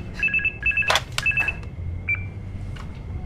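A telephone rings in the middle of the night with loud, close electronic trills in quick repeated bursts, followed by a fainter tone and low background noise.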